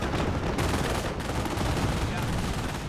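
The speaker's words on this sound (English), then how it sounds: "machine gun crossfire with flamethrowers and cover" Dense machine gun crossfire in a real-time strategy battle game, rapid overlapping bursts of automatic fire with explosive cracks, loud and continuous with short gaps, under faint background voices.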